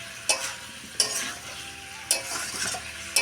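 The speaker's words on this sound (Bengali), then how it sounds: "এবার নেড়ে চেড়ে নিয়ে একটু ভেজে ভুজে নিই" Potatoes and meat frying in a pan, a soft continuous sizzle punctuated by four distinct scraping stirs at roughly one-second intervals, close and clear.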